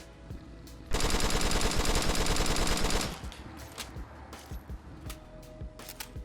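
A Rapid MG machine gun from a Fallout 4 mod fires one loud, rapid continuous burst lasting about two seconds, followed by scattered fainter shots and clicks.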